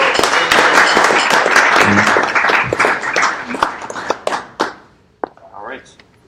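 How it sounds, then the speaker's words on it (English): Dense, loud applause from a tech meetup crowd welcoming a speaker, sustained for several seconds and then thinning into a few last scattered claps before quiet. "So everyone, round of applause for Aaron Normus."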